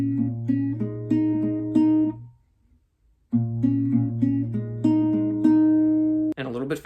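Acoustic guitar plucks the first section of a song as a steady, repeating single-note pattern, clear and close, with a short pause midway before the pattern resumes and a brief strum at the end.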